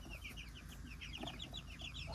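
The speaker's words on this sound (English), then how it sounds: "we'll get those chickens in that little pen over here" Several newly arrived, frightened chickens cluck softly and repeatedly in a small pen, faint and somewhat distant, with irregular short calls over a low background rumble.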